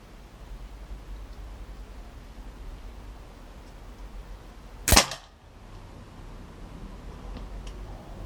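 A Stoeger RX20 TAC Dynamic air rifle fitted with a Hawke Vantage 3-9x50 AO scope fires a single pellet. One sharp, loud crack comes midway through a quiet background.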